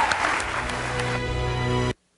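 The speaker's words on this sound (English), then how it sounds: "Let's give our candidates another round of applause" Audience at an Iowa governor's debate applauding the candidates, a dense steady clatter of clapping that cuts off abruptly at the end.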